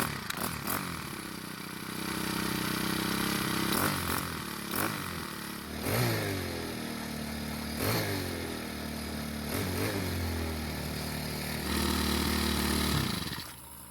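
A Craftsman 4-cycle string trimmer, its head not spinning, runs after a pull-rope start, revving up and dropping back in several uneven bursts with a rough, buzzing engine tone close by.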